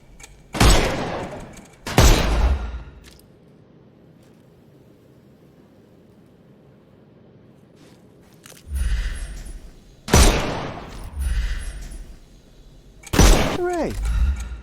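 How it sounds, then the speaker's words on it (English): Gunshots fired at enemies' armour in Sherlock Holmes Chapter One, with a few loud, sharp separate shots and impacts spaced apart, mixed with other game effects and occasional voice. "Shoot off their armour."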